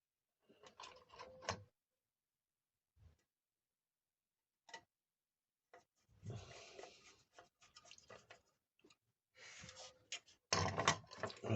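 Screws are driven by hand into the hull of an Italeri 1/35 S100 Schnellboot model kit during an RC conversion. Close, faint clicks and ticks come in scattered bursts, separated by quiet gaps.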